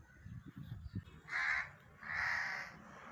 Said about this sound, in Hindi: ये देख चेक करें कौवे कितने प्यारे लग रहे हैं।